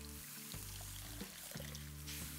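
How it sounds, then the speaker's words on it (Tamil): Water is poured into a masala of sautéed onion and ginger-garlic paste while cooking Bindi Do Pyaza, a soft trickle and splash with faint stirring, quiet and close, no talking. "ஒரு 250 ml தண்ணியை ஊற்றி இது மாதிரி மிக்ஸ் பண்ணுங்கள்."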